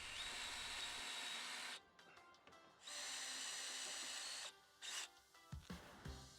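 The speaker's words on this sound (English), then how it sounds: "Then drill out the other 2 rivets." A power drill whines in two long, steady bursts as it drills out rivets on an RV patio awning roller, separated by brief pauses with light clicks and handling noises, close and alone.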